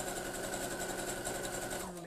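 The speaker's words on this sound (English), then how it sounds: "I'm going to sew down about that much backstitch so it doesn't come unpicked" A sewing machine running steadily as it sews a backstitch through fabric for a fruit-shaped pin cushion, a fast even mechanical whir that keeps going for the whole stretch.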